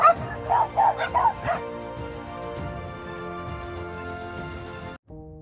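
A dog yips and whimpers in a quick run of excited high cries on returning home after being sterilized, then settles into quieter whines over a low background hum.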